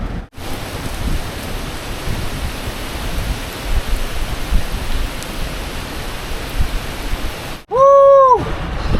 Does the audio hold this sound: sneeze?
no